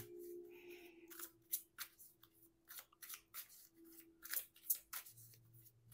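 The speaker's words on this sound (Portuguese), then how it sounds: "Vamos embaralhar agora." A tarot deck being shuffled by hand, with a run of irregular crisp card riffles and rubs, close and fairly quiet, with no talk.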